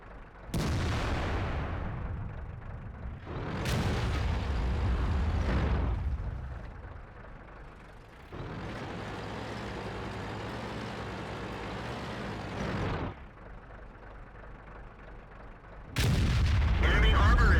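World of Tanks video game tank battle with a JagdPz E-100 cannon: several loud, booming cannon blasts with rumbling tails occur at intervals, each burst followed by engine-like drone between shots.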